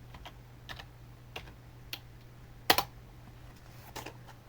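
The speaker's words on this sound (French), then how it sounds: "Par exemple, je vais taper VLC." Sparse keystrokes on a computer keyboard as a short search word is entered on a Zorin OS 17.1 desktop: a few spaced clicks with one sharper, louder tap midway, close up over a quiet steady hum.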